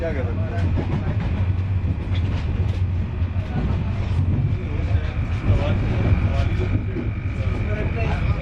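The Tejas Express runs between Lucknow and New Delhi, a steady rumbling roll with faint rhythmic clatter heard from inside, loud and continuous under a voice talking throughout.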